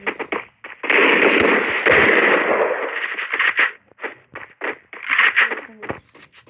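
Shotgun fire in the mobile battle game Free Fire: several loud, close bursts of sharp blasts, a dense volley early on and then separate cracking shots in an uneven rhythm, with faint game sounds between them.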